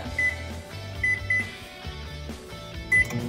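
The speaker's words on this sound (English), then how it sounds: "I'm just gonna throw the broccoli up in the microwave for the 4 minutes" A microwave oven runs with broccoli steaming inside, a low steady hum broken by a few brief louder clicks and tones, close by with no talking.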